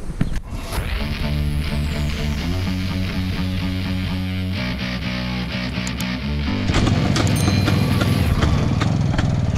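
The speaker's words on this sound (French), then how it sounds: "Un seul coup de kick et ma moto démarre." A 1960 sidecar motorcycle starts after a single kick, then its engine runs with a steady, throbbing idle that grows louder near the end.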